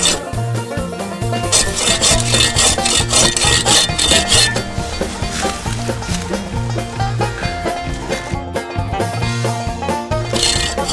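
A Sven-Saw rasps steadily through very hard oak, cutting at an angle. The strokes are loud, close and rhythmic, repeating back and forth throughout without pause.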